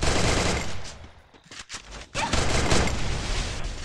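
Rapid bursts of gunfire from the battle-royale game Garena Free Fire, loud and dense, with a short lull in the middle before the shooting resumes at full intensity.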